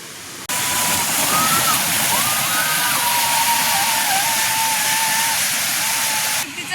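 A steady, loud roar of Panderi waterfall in Mandangad, Konkan, fills the whole clip, with a faint thin whistle-like tone wavering over the rushing water.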